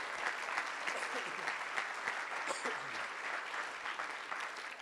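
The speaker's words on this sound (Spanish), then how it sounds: "Denle un aplauso al Rey, hermano." A church congregation applauds in a steady, even wash of clapping that holds for several seconds at moderate distance, with faint voices underneath.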